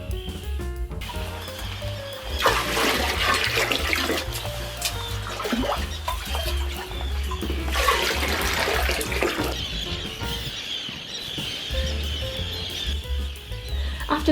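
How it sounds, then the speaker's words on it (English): Water pours from a well into grey water containers at an offshore lighthouse, a loud rushing splash that swells in two long bursts over a constant low rumble, with no talking. "I decided to fill up our grey water from the well"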